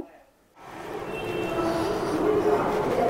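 A low, steady rumble of the Netaji Express (12311) at a Howrah station platform builds after a quiet start and holds, with a voice faintly talking beneath the noise.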